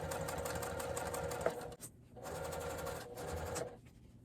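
A sewing machine stitches a zippered makeup bag in two steady, rapid runs of stitching. A brief pause with a small clunk separates them, and the second run stops shortly before the end. Close and even, with no talk.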